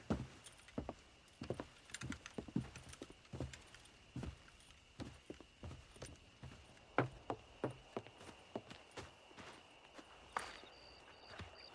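Horse hooves clip-clop at a walking pace in Red Dead Redemption during horse wrangling, a steady run of crisp, fairly close hoofbeats with faint jangling of tack between them.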